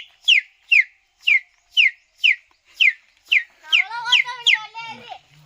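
On a forest outing, a sparrow-style bird whistle is blown in eight short, evenly spaced chirping bursts, then breaks into a rapid warbling trill that copies birdsong, loud and close.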